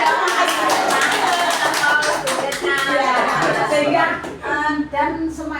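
An audience at a school talk show for International Disability Day bursts into lively hand clapping for a teacher, with a voice speaking over the applause throughout.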